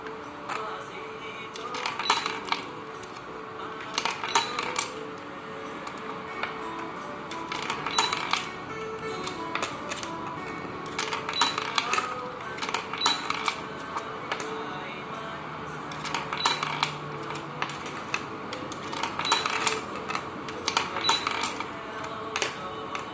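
Mixed old and new one-baht coins drop one after another into an SG648 coin acceptor being programmed, giving clusters of bright metallic clinks and rattles over a steady background hum.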